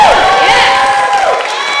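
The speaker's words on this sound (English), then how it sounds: "Give me a round of applause" A comedy club crowd cheers and whoops loudly in a brief, dense burst of voices, near and lively.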